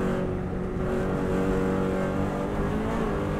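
Subaru WRX STI engine droning steadily in fifth gear on the Isle of Man TT road course, a loud, even in-car roar holding constant revs with no talk over it.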